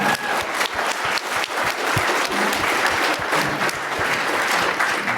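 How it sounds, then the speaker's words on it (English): An audience at an entrepreneur leadership event applauds, with a dense, steady clapping from a sizeable crowd that carries loud and unbroken throughout, no talking. "Give that girl a round of applause."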